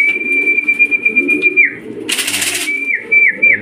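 Homing pigeons arriving at a loft after a race from Tarlac and Talavera, with a steady high whistle and a sudden burst of wing flapping midway, birds close by.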